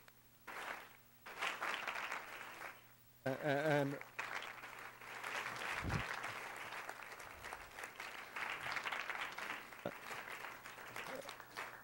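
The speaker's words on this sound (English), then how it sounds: "Now I'd like the audience to give a nice round of applause to all the candidates." An audience at a 2016 Culver City council candidates forum breaks into a sustained round of applause, with a brief microphone tone and a speaking voice over the clapping.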